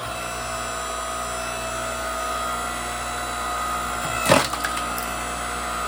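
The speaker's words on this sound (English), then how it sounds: "we're going to show him how to run this splitter" A hydraulic log splitter runs with a steady engine drone, then a piece of firewood cracks apart in one short, sharp splintering burst.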